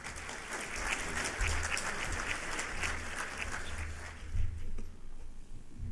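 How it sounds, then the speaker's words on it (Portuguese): Audience at a Brazilian pharmaceutical and cosmetics industry conference applauding to welcome a speaker, steady dense clapping from a large room that thins and tapers off near the end. "Senhoras e senhores, nosso aplauso ao Dr. Nelson Mussolini."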